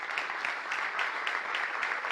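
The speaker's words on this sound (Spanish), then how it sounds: "y quiero que les demos un gran aplauso." A crowd at the Patria event, in praise of the organizers, applauds with steady, even clapping at moderate volume for about two seconds, with no talking.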